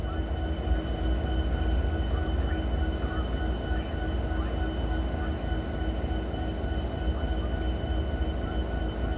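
A loaded CSX coal freight train passes at Point of Rocks, giving a steady, continuous rumble and rolling clatter of wagons with faint tonal hums, heard alone without talk.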